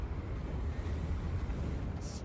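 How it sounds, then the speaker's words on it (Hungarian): Strong wind roars in the game Hogwarts Legacy, a steady dense rushing gust of low, rumbling noise that holds at an even level throughout, with no talking. "Nagy a szél! Elvisz a szél."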